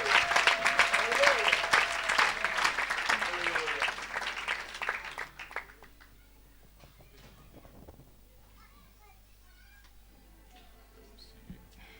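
An audience claps and cheers loudly at a church service for about five seconds, then the applause dies away into quiet room noise with scattered faint sounds.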